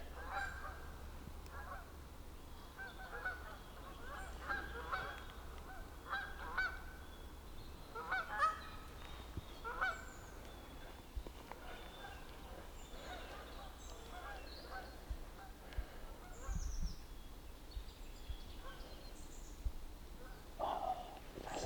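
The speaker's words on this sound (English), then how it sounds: "geese are starting to gather in migration. You get a lot of them passing over here" Migrating geese honk repeatedly at a distance, overlapping calls from a passing flock over a Scottish forest, over a low, steady outdoor rumble.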